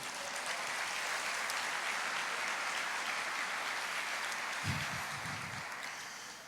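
A church congregation applauds during a sermon, a steady broad wash of clapping that holds from start to finish and fades slightly near the end, with a brief low thump partway through.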